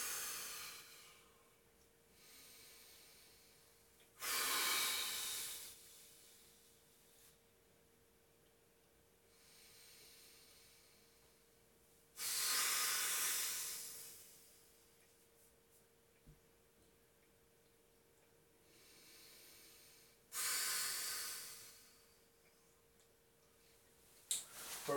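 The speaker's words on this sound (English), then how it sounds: "Breathing." Sharp, heavy exhalations during a core workout, three loud hissing breath bursts spaced about eight seconds apart, with quiet stretches between them and no talking.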